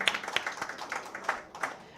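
Scattered clapping from a few people at a hospital launch event, uneven and fairly light, with irregular sharp claps rather than full applause.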